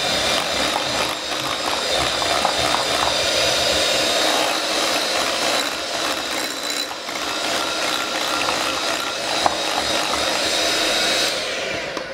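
Electric hand mixer beating cream cheese filling for a no-bake key lime pie, a loud continuous whirring drone with a gritty mechanical rattle, close and unbroken throughout.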